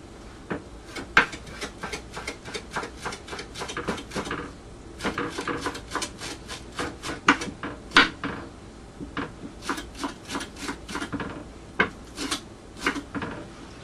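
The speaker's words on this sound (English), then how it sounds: "then we're going to chop our half a cup of cilantro." Knife chopping cilantro on a wooden cutting board for shrimp ceviche, a long run of quick, close, fairly even thuds with short pauses between bursts and no talk.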